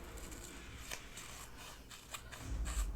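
Snips from scissors cutting a plastic storage strip for diamond painting crystal drills in half, a few soft close cuts over a quiet room with a low thump near the end.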